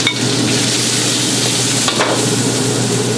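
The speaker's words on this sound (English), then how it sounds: "Let the garlic burn for a little bit, or cook for a little bit, and then you put onions in there." Garlic and onions frying in a pan while being stirred, a steady loud sizzle with a low hum underneath and a brief scrape of the utensil partway through.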